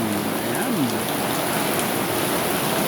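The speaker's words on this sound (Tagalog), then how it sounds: "pakinggan ninyo ang lagasnas ng super lakas na ulan" Very heavy rain pours down onto the roof covering a corridor, a loud, dense and unbroken roar of water that stays steady throughout with no talking.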